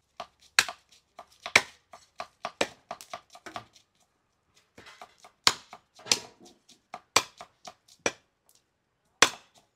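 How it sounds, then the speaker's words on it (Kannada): A knife chops country chicken into small pieces on a board in a home kitchen, a string of sharp, irregular thuds at close range with brief pauses, and no talking. "ನಾಟಿ ಕೋಳಿನ ಚಿಕ್ಕ ಪೀಸಾಗಿ ಕಟ್ ಮಾಡ್ಕೊತಾ ಇದ್ದೀವಿ ನೋಡಿ."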